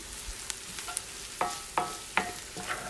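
Onions frying in a pan for an Italian frittata, a low sizzle broken by several sharp scraping stirs of a utensil against the pan, close and fairly quiet with no voices.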